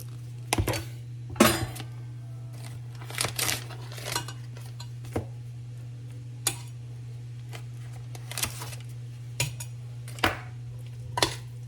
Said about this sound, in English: I'm just going to stir that in.